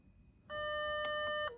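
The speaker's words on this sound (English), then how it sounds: "It's going to beep now." A water-methanol injection controller in a car gives a single loud, steady electronic beep about a second long when the ignition is switched on, rising clearly above faint background noise.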